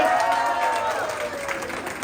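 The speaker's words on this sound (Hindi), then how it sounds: "जोरदार तालियां बजाएं" Audience at an anchored stage event applauds over a brief 2-second stretch: dense, steady clapping with crowd noise and faint whistles throughout.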